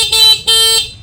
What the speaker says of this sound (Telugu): ఓకే, ఇదేమో హారన్